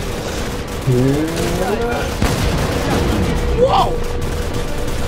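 Gunfire in the Minecraft Fallout roleplay game: bursts of rapid shots and booms crackle steadily through the clip. Players talk and shout over the shooting.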